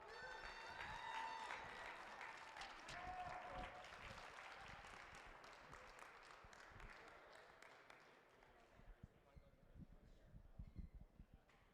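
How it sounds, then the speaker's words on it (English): Applause from the crowd at a VEX V5RC robotics tournament in a high school venue, honoring the Excellence Award winner; dense, steady clapping that thins and fades into scattered claps and a few voices toward the end. "Let's hear some more claps for our Excellence Award winner."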